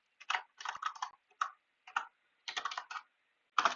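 Fast typing on a computer keyboard in short clattering bursts separated by brief pauses, close and clear, with no talking over it.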